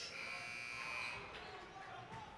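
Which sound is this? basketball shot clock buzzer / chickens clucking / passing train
basketball shot clock buzzer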